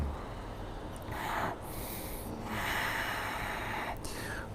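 Slow, deep breaths drawn in and released during a yoga session, each breath a long airy rush recorded close and fairly loud.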